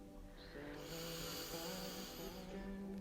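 Deep, audible yoga breathing drawn through the nose during a power yoga session, one long steady rasping breath, soft and close with no talking.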